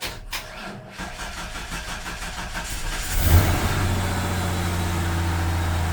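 A few clicks and a cranking whir, then a 2007 Lexus GX470 engine catches on a cold start and settles into a low, steady idle rumble close by.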